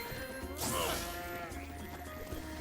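A sheep bleats once in Skylanders Imaginators. The short bleat rises out of busy, dense game background sound.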